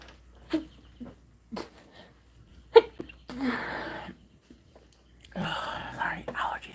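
Sneezing from bad allergies comes in a few sharp, separate bursts spread through the clip, with some quiet talking and breathy sounds between them.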